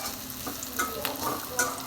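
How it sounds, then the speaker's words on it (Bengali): Chopped potatoes hit a pan of softened onions and fry with a steady sizzle, while a few louder stirring scrapes break through close by. "এখন আমি কুচে রাখা আলু ভাজিটা দিয়ে দিব"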